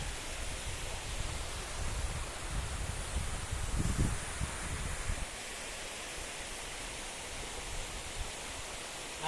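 Waterfall at Araku, a steady broadband rush of falling water heard from a distance, soft and continuous with a brief low rumble partway through, no voices.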